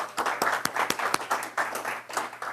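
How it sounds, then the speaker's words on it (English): A small gathering at a round-table discussion claps by hand, a handful of sharp, distinct claps over a softer patter, fairly close and irregular, with no talking. "Give Sister Selah and Brother Abdullah a hand."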